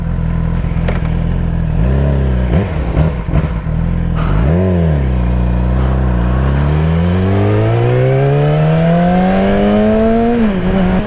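Yamaha R6 sport bike with traction control off, revving during a wheelie. The loud engine dips and rises a few times, then climbs in one long, steady pull that peaks near the end.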